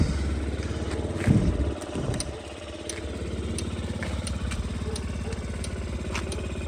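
A Yamaha Gear 4T fuel-injected scooter engine runs at a steady idle, an even close putter with a brief louder rev near the start, no talk.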